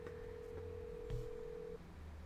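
A telephone call in a Nancy Drew video game, a steady single tone held for nearly two seconds, then cutting off, faint and alone.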